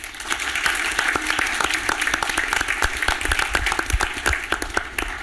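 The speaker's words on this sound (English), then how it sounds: "Let's have a round of applause for our panel." An audience claps continuously for several seconds, a dense, lively round of applause with no voices on top.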